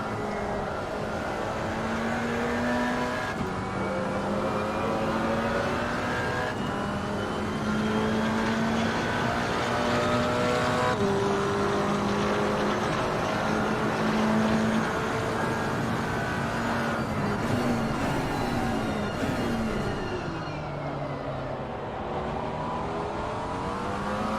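GT4 race car lapping the Nurburgring in a racing video game, the engine note rising through the gears and dropping on each shift in a repeating pattern, steady and fairly loud, with no voices.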